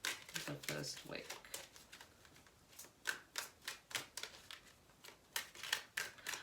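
A deck of tarot cards is shuffled by hand in a quiet room, making a quick, uneven run of crisp papery snaps and riffling clicks that come in clustered bursts, close to the listener.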